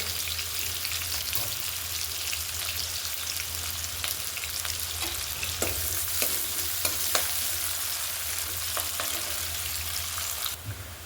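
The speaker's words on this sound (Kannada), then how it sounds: "ಎಣ್ಣೆ ಕಾದಿದೆ ಈರುಳ್ಳಿನ ಹಾಕ್ಕೊಳ್ತಾ ಈರುಳ್ಳಿ ಸ್ವಲ್ಪ ಫ್ರೈ ಆಗಬೇಕು" Onions fry in hot oil in a pan, a dense continuous sizzle with scattered crackles and pops, close and steady throughout with no talking.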